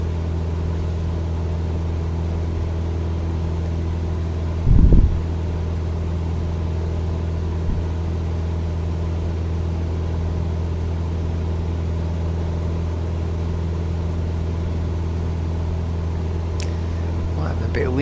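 Cessna 172 piston engine droning steadily in Microsoft Flight Simulator 2020 while cruising along the Rhine, a constant low hum with a brief thump near five seconds and no talk over it.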